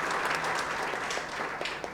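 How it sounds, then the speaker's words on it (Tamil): An audience claps steadily through a live Carnatic-style music concert program, a dense, even burst of applause with no voices over it. "பலமான கைத்தட்டல்"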